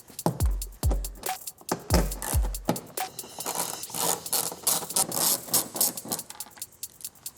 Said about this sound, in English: we're going to access those 10mm bolts with a long extension and a 10mm socket